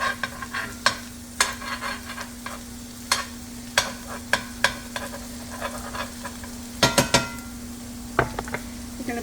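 Browned meat for Swiss steak with Italian-style tomatoes sizzles in a pan as it is stirred, with sharp scraping clicks of utensil on pan over a steady frying hiss and a low hum.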